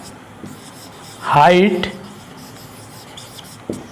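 Chalk or marker scratches across a board during a class 10 trigonometry lesson in short, close strokes, heard between a teacher's spoken explanation.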